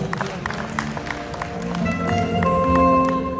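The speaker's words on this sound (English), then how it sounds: "Let's give them a round of applause" Audience applause for election candidates at a UNAA presidential speech, a dense wash of clapping that swells louder toward the end, with steady tonal music sounding alongside.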